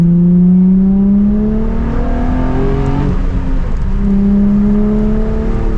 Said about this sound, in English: The sound this car makes is so just unique in my opinion. It has like this gurgly noise